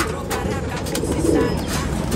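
Pigeons coo in a loft, soft rounded calls repeating close by over a constant rustling background, with faint talk in the distance.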